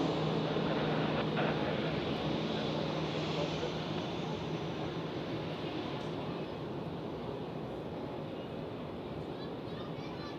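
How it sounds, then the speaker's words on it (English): A Boeing 777 jet engine at Zurich Airport roars as a steady, loud broadband rumble that holds for the whole stretch, with the level easing slightly toward the end. "I hear something that sounds like an Boeing 777 engine"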